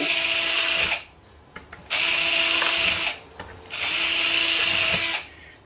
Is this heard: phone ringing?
no